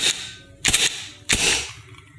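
VFC Glock 17 airsoft pistol firing three sharp, close shots at uneven intervals, each a crisp snap with a short mechanical tail.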